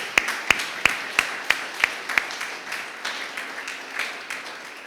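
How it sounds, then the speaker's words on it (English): Applause at a village government address: a crisp, evenly paced run of close, loud claps gives way to a softer, scattered spread of clapping across the audience. "we offer these folks a great round of applause"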